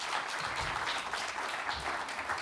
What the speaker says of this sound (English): So some applause for Denis, please.